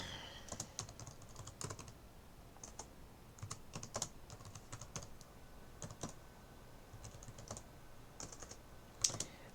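Quiet, irregular clicking of fingers typing on a computer keyboard, steady throughout with small pauses between runs of keystrokes and one sharper tap near the end.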